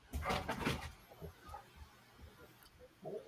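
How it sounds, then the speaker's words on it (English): A dog barks indoors, a loud cluster of barks at the start followed by quieter yips and whimpers, then another short burst at the end. "I'm gonna let her finish her barking before I try to talk"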